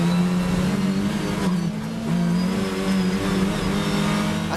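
Onboard race car number 55 engine from a Poison Ivy racing entry, a loud sustained drone that rises and dips as the engine revs through gears.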